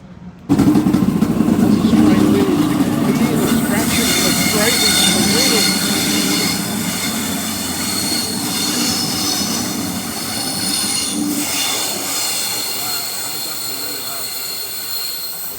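Train wheels screeching loudly on a really tight curve near a bridge, a continuous high metallic squeal over rumbling rail cars that stays loud throughout as the train passes close by.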